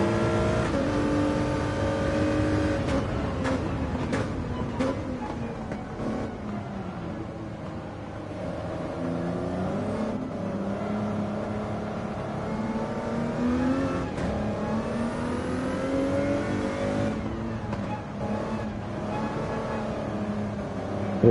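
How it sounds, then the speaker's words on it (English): The 4GT race car engine in Gran Turismo 7 at Fuji howls continuously, its pitch climbing through the revs and dropping at gear changes and braking, loud and close with no talk over it. "But it does sound beautiful. Let's have some engine sound"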